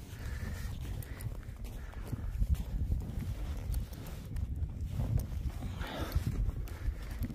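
Horses in a herd move across open ground, their hooves thudding and clopping irregularly at a moderate distance, with wind noise around them and no talk.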